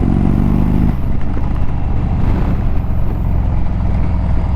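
A 2023 Indian Super Chief 116 Thunderstroke motorcycle braking to a stop, heard as a loud, close engine drone that drops away into steady roaring wind and road noise as it slows.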